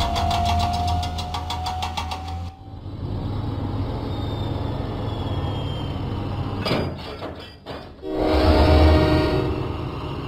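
Diesel engine locomotive from a Thomas and Friends video game chugging along: a steady rumbling engine drone with a short tonal hoot at the start, brief clanks midway, and a louder surge of engine noise near the end.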